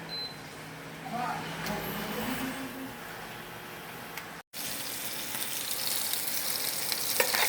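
Pancit ingredients frying and being stirred in a pan, a steady soft sizzle with occasional scraping, under quiet talk from people in a home kitchen.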